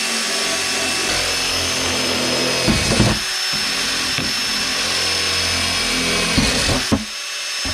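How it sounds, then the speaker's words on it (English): A power drill boring holes outdoors, its motor whining steadily and loudly for several seconds with brief pauses and changes in load. "She's out there drilling holes and I have no clue why."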